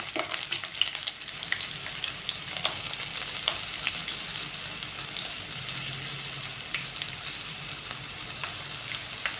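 Crushed garlic cloves fry in hot oil for a relish of ripe red chillies and tomato, giving a steady close sizzle with faint scattered pops and stirring scrapes throughout, no voices.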